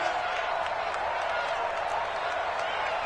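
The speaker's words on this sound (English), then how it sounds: "The crowd getting into it as we come up on a big 3rd down" Stadium crowd noise in an American football video game on PS4, a steady, dense roar of cheering and applause building ahead of a big third down, with no talk over it.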